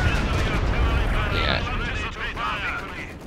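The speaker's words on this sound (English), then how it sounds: "Now I hear a bombing run." Battle noise from a bombing run in the Company of Heroes 2 game: dense, loud rumbling blasts and gunfire with whistling, descending tones, continuous throughout, with a voice partly mixed in.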